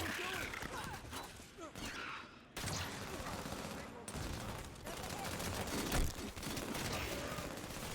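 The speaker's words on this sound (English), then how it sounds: "switch to your Magnum and wipe out this group of crawlers with headshots and melee attacks" Magnum pistol fire against crawlers in Halo 5: Guardians, a run of sharp shots and bursts mixed with game effects and clashes, moderately loud and fairly dense.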